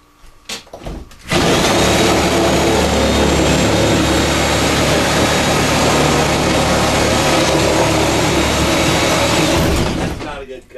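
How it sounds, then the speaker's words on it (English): A Porter-Cable reciprocating saw (Sawzall) cuts open a door: after a brief quieter start, a loud, continuous, harsh buzzing roar runs close up for about nine seconds, then stops. "Got a Porter cable sawzall here."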